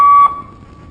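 Single sharp electronic beep of a firefighter running fitness test, a loud steady tone lasting about a quarter second before cutting off and leaving a faint fading ring.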